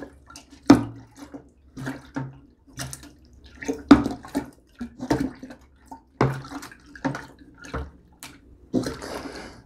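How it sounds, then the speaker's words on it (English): A banana and strawberry wine mixture is stirred vigorously, producing irregular close sloshing and splashing liquid strokes with short pauses between them, clear and alone. "I want to go ahead and give our mixture a good stir. Good vigorous stir."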